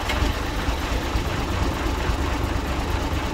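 A twelve-wheel truck's engine idles steadily after starting, a loud, continuous low rumble with a faint knocking texture and no talk over it.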